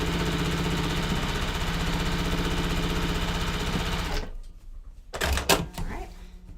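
A sewing machine stitches a quilt block in a fast, steady whir for about four seconds, then stops, leaving a few handling clunks and rustles close by.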